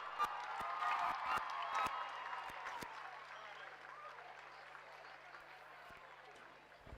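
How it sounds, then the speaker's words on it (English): A crowd applauds the winners of the NSW Schoolgirl Head of the River rowing race, with sustained clapping and a few sharp claps up front that gradually thin and soften over several seconds. "give them a round of applause"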